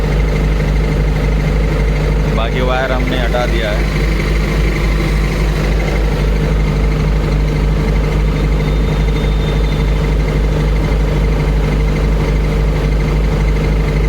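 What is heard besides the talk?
Kirloskar diesel generator engine running during cool-down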